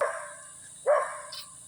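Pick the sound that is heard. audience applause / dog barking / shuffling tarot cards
dog barking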